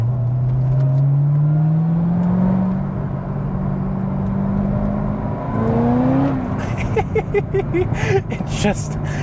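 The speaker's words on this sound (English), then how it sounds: "you can hear the supercharger on this car too pretty well" A supercharged Chevrolet Corvette ZR1 engine revs and accelerates with a rising supercharger whine, then shifts gears and climbs again, loud and close from inside the cabin.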